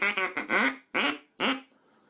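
A duck call lure sounding three loud, close quacks, the first a quick stuttering run and the next two single drawn-out honks, ending in quiet.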